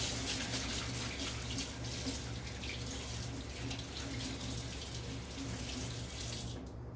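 A kitchen faucet runs steadily in a cabin while hands are washed under it, a close, constant splashing rush for several seconds that cuts off at the end, with no voices.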